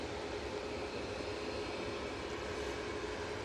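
A TUI Boeing 787-8 Dreamliner taking off from Manchester Airport, heard as a steady, faint, distant broadband jet roar with no rise or fall over the moment.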